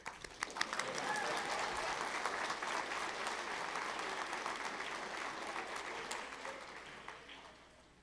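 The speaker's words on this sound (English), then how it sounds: "You can clap." Sustained applause from a large commencement audience fills the hall, dense steady clapping with a few sharper claps early on, then tapering slightly near the end.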